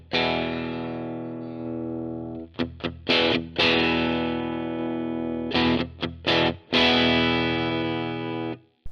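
Electric guitar through an Amped VX30 amp plugin with the volume cranked up into breakup, sustained crunchy chords ringing out with a few short choppy stabs and pauses, loud and close.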